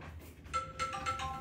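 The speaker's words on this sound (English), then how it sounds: "There's the phone." A telephone rings nearby, its electronic ringtone repeating a few short bright tones over a soft room hum, with no talking.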